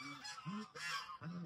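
Geese or ducks honk loudly and close by at a duck farm in Pune: a few harsh, nasal calls in quick succession, with no talk.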